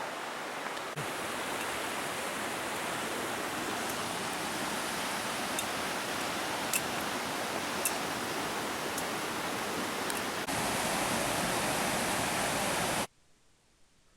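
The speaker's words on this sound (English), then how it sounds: "We continue up the trail alongside the roaring creek" A roaring creek rushes beside a hiking trail up Diamond Fork toward the hot springs, a steady, loud, broadband wash of water that fills the whole stretch with no talk, then cuts off abruptly near the end.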